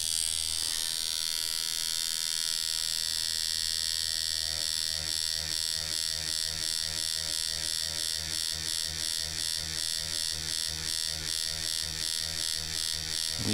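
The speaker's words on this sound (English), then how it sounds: "You can tell even at 6 volts this machine runs pretty fast" A JDMFG Anvil MK1 rotary tattoo machine runs at 6 volts, giving off a steady, fast, close electric buzz that takes on a pulsing rhythm as shading starts partway through.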